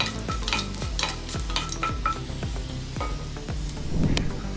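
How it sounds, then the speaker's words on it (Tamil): Onions with ginger-garlic paste sautéing in a pan for Tamil-style spinach rice, a spoon stirring in steady repeated scrapes over a constant close sizzle and fry. "அதோட கட் பண்ணி வச்சுருக்க வெங்காயத்தையும் சேர்த்து நல்லா வதக்கிக்கணும்."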